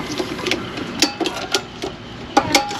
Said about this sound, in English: So ratchet strap to the rescue again. Gonna try to pull this whole assembly this way.